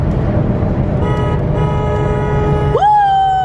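A car horn honks loudly near the end inside a tunnel, over the steady roar of traffic and road noise, with another faint tone beforehand.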